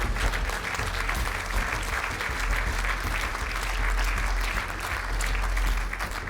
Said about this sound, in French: Alors on les applaudit très fort tous les 4.